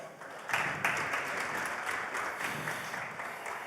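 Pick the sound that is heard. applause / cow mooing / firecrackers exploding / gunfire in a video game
applause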